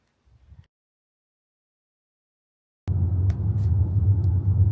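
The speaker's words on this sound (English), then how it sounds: "London traffic" London road traffic rumbles on the way to Wembley, a dense low drone of car engines that starts abruptly after near silence and continues steadily.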